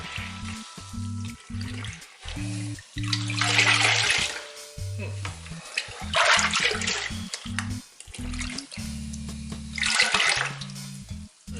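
A sponge soaks in a bucket of rinseless car wash water in a garage, with wet sloshing and squelching swells rising and falling, close by, while a person talks over it intermittently.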